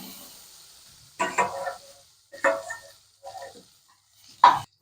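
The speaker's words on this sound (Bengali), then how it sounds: "কিশমিশটা দিয়ে আর একটু ভেজে নেব।" Almonds, cashews and raisins fry in a wok, heard as short, irregular bursts of sizzling and stirring separated by near-silence.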